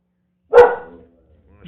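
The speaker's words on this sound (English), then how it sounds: "Let me go grab the puppy." A puppy gives a single short bark up close, then quiet follows.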